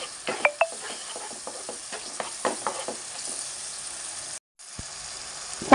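Onions and tomatoes cooking in a pan for cluster beans curry, with soft sizzling and irregular stirring scrapes and clinks, a few louder spoon knocks early on, then steady low frying.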